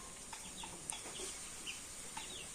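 Faint chicken clucks and short calls come a few times against a steady background hiss, distant and quiet, with no talking.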